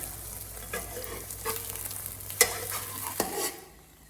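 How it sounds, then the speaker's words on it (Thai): A Thai omelette egg frying in a pan, a soft steady sizzle with a few sharp clinks and scrapes, fading out near the end. "ทอดจนไข่สุกเลยนะคะ"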